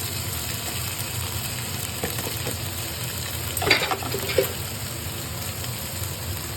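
Fried peas and chopped boiled potatoes being stirred in a pan, a soft steady sizzle with scraping spoon strokes, a couple of brief louder scrapes midway, no talking.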